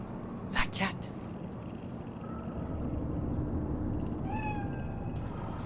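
A cat meows in the Cyberpunk 2077 video game, with a couple of short, clear meows rising late in the clip over steady ambient city hum, after a brief burst of voices near the start.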